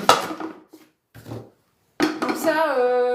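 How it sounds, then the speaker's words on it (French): A lid fitted with a steaming basket is set onto a cooker, giving a couple of short clattering knocks and a metallic clink with a brief ringing tone afterwards, close and fairly loud. "Mettre en place le couvercle avec le panier cuisson."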